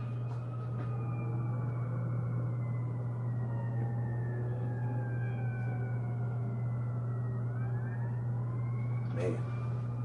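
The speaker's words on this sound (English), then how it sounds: "There goes another ambulance up there." Several ambulance sirens wail in the distance near a Las Vegas casino strip, long rising and falling tones sweeping steadily for about ten seconds over a constant low hum, with someone talking at times.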